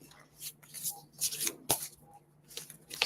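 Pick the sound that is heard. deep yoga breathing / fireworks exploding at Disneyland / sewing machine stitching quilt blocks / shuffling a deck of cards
shuffling a deck of cards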